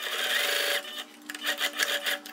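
A sewing machine stitching a trouser zipper gives a steady close whir of needle strokes, then pauses and starts in short rhythmic bursts of stitching.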